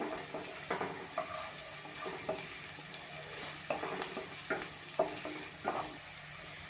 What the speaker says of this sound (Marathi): कांदा घालते थोडासा परतते